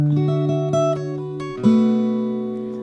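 An acoustic guitar is played fingerstyle: several plucked notes in quick succession, then a fuller chord that rings out and slowly fades.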